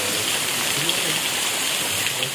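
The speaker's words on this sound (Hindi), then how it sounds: "आज बहुत ही तूफानी बारिश हो रही है" Heavy stormy rain pours in a steady, dense hiss that fills the whole stretch without letup, close and loud, with no other sound standing out.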